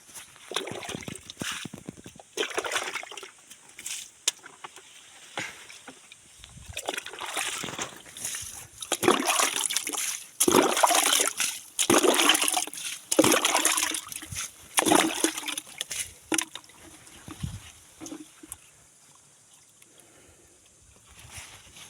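Water poured from a dipper onto the base of each fruit-bearing plant, one scoop per tree, in hand watering under a water shortage; repeated close splashes and sloshes come in irregular bursts, with faint talk now and then.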